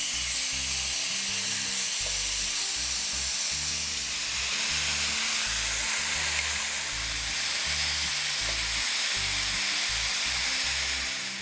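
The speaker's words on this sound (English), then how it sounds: "In a pan over medium-high heat, we'll saute the spicy pork belly" Spicy pork belly sautéing in its own sesame oil in a pan over medium-high heat, giving a continuous loud, close sizzle and hiss that holds steady throughout, with no talking.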